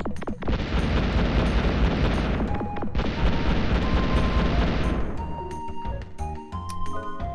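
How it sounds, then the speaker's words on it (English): Bombs going off in the PS1 game Wild Arms: two long, roaring explosive blasts back to back, loud and close, fading into a few soft tonal chimes. "But I have bombs."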